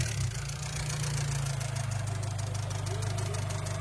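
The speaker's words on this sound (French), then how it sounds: "quand le moteur est chaud, ça claque comme ça." A hot Volkswagen TDI diesel engine idles close by with a rapid, steady metallic clatter over its low hum.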